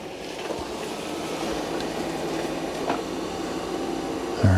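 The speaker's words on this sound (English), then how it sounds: "Now it's gonna travel to that room and clean it." A Roborock Q Revo robot vacuum and mop travels between rooms with its mop pads raised, giving off a steady, moderate whirring hum with a faint rumble throughout and a brief louder bump near the end.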